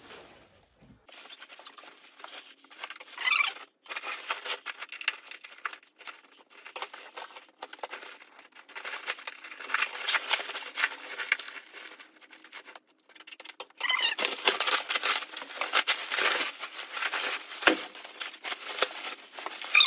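Scissors cutting open the plastic wrap of a vacuum-packed, rolled mattress bought in Japan, giving irregular close crinkling, scratching and tearing of plastic that grows louder and denser toward the end.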